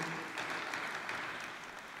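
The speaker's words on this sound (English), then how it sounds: "A thunderous applause to start with them" Guests at a State Bank of India bell-ringing ceremony applaud the bank's finance team, a soft, distant, even wash of clapping that fades slightly toward the end.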